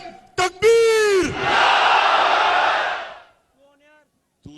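A large rally crowd roars back in unison with a long, swelling shout, filling about two seconds after a single voice calls out the slogan, then fades to near silence.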